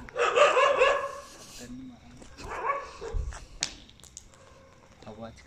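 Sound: dogs barking at night in a village

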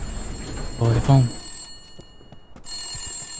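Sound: telephone ringing in a video game

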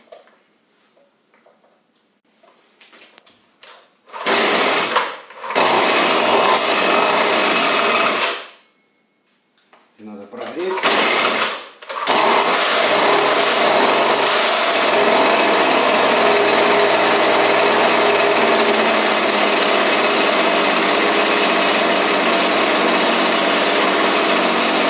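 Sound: small carburetor engine starting and running after adjustment

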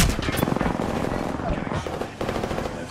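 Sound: gunfire in the Apex Legends video game

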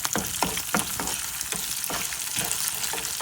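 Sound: frying sesame seeds and cumin in a pan

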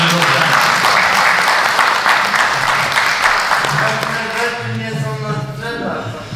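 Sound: audience applause

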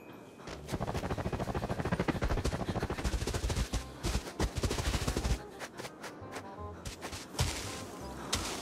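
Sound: gunfire in video game Arena Breakout

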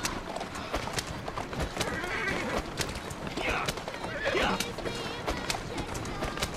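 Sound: horse-drawn carriage, horse neighing, Assassin's Creed Syndicate video game

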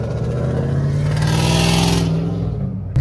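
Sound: Ford Mustang cars accelerating away from a car meet

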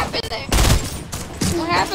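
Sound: gunfire in a video game

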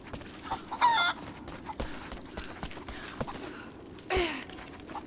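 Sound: chickens clucking in Rise of the Tomb Raider video game

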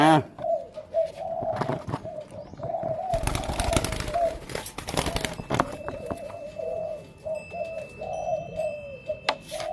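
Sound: young bird, likely a pigeon, cooing while handled

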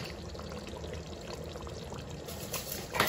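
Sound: pouring kewra water into chicken korma

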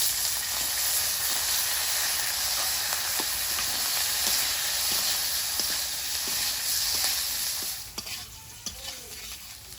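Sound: whole garlic cloves frying with potatoes in oil

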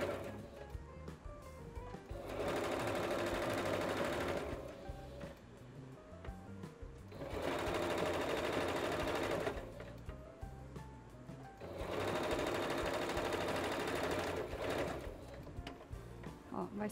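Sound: sewing machine stitching fabric

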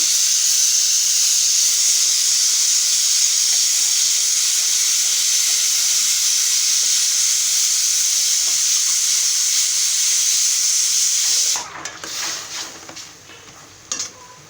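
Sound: rui fish head frying in a pan

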